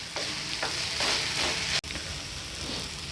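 Tomatoes and fresh coconut being stirred in a pan for a potato curry, with a steady loud sizzle and frying hiss throughout and a spoon scraping at regular beats, no voices.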